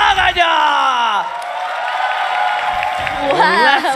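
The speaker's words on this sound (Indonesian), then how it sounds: "MPL Arena, bisa tepuk tangannya!" A packed esports arena crowd at a Mobile Legends MPL Indonesia match between EVOS Legends and Bigetron Alpha roars and whoops loudly and continuously, while an excited commentator's shouting voice rides on top.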